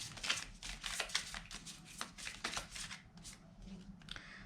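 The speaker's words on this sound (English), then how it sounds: "I'll just pull one more card." Tarot cards being shuffled in quick bursts of riffling and flicking, close and fairly loud, with short pauses between passes and no talking.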